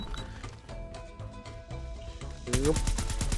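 Rapid automatic gunfire from an EM2 rifle in the mobile shooter Call of Duty Mobile, a dense stream of shots over game sound effects, with a louder, sharper burst near the end.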